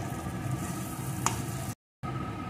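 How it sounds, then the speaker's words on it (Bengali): A banana flower mixture stirred and fried in a pan, a steady close sizzle with scraping stirring strokes, one brief sharp clink, then a short cut to silence before the sizzling resumes. "এইভাবে সমানে নাড়িয়ে নাড়িয়ে রান্নাটা করতে হবে, নাহলে কিন্তু নিচে লেগে যাওয়ার সম্ভাবনা থাকবে।"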